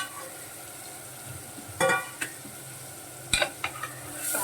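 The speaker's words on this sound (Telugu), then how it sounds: "బోటి చక్కగా ఫ్రై అయిపోతుంది అన్నమాట." Goat tripe (boti) stirred in a frying pan, a soft steady sizzle broken by a few sharp scrapes and clatters of the spoon against the pan, close and alone with no talking.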